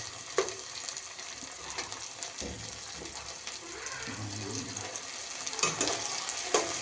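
Food frying in oil in a frying pan, a steady sizzling hiss with occasional crackles and stirring scrapes, close and fairly quiet, with no talking.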